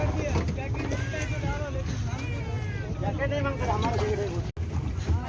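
A boat ride off Calangute beach in Goa carries a steady rumble of engine and water with wind buffeting the microphone, while voices talk and call out over it throughout.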